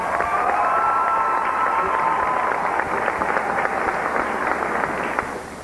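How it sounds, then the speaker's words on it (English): A crowd at the 1998 Miss North Carolina Pageant claps and cheers for the contestants and swimwear finalists, a broad sustained roar of applause with whoops, holding steady before easing off at the end. "How about a round of applause for all our contestants on stage, and especially our swimwear finalists."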